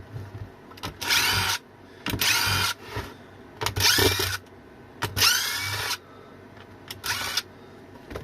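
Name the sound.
power screwdriver removing Phillips head screws from e-bike battery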